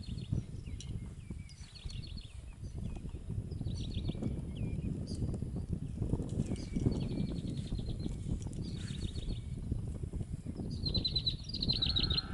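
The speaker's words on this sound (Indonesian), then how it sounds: "various types of water birds and other migratory birds" Water birds and migratory birds at a pond call repeatedly, bursts of high chirping and twittering at varied distances above a constant low rumble of wind or background noise.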